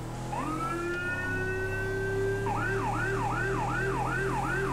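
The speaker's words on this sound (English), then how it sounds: "This siren is called a Wheeling Syncom Sapphire Howler." A Wheeling Syncom Sapphire Howler police siren in GTA 5 rises in a long wail, then switches to a rapid pulsing yelp over a low, droning engine, loud and close.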